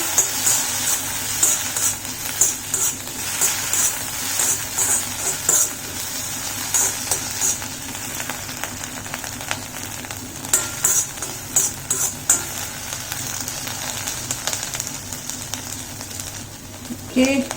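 Butter sizzles in a pan over a gas stove, a steady close hiss running throughout with light clinks and scrapes of a utensil stirring.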